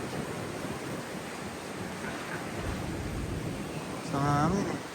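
Strong wind from Typhoon Uwan roars as a steady, broad rush that blankets the whole stretch, with a voice briefly rising over it near the end.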